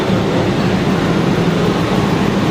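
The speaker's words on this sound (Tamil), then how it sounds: "ராக்ஃபோர்ட் எக்ஸ்பிரஸ் இப்போ தான் வந்துருக்கு" The Rockfort Express train pulling into a busy station, a loud, steady rumble of rail noise that fills the whole stretch, with no clear voices above it.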